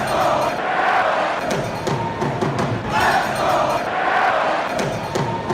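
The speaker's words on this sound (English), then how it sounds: "And the Mariner fans have something to cheer about." A big stadium crowd of Seattle Mariners fans cheers loudly at an ALCS playoff game against the Toronto Blue Jays, a roaring swell of yelling that rises and falls over several seconds.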